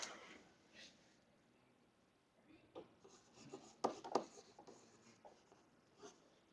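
Marker or pen writing out an algebra equation by hand, a run of quick scratchy strokes and taps, close and faint in a quiet room, no talking.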